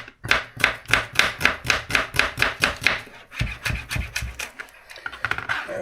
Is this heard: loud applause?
no